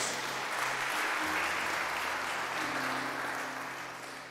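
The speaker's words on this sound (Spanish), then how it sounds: "Dale un aplauso a Jesús" A church congregation applauds steadily during a sermon, a dense wash of clapping that holds for several seconds, then starts to fade, with a low hum underneath.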